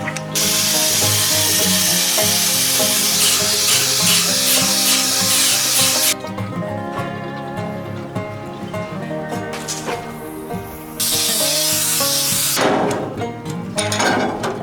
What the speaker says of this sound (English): I gotta grind this paint off of this so we can weld to it.